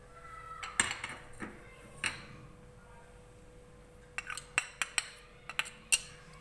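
Potatoes are mixed with rice flour, cornflour, coriander and dry spices in a bowl, with sparse clinks and scrapes of a utensil against the dish, close and fairly quiet, quickening into a cluster of taps toward the end.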